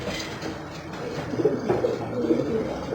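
Soft repeated cooing of a dove, likely a bird kept in a breeder's cage, murmuring in low rolling phrases that rise between about 1.4 and 2.4 seconds over a steady background hum.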